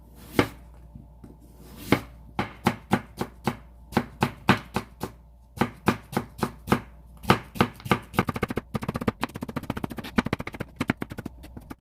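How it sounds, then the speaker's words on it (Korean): A knife chops vegetables on a cutting board for soybean sprout potato pancakes: scattered single strokes, then a quick, steady run of close, crisp chops that grows faster and denser toward the end, with no talk. "채 쓸어줄 건데 너무 가늘지 않아도 괜찮아요"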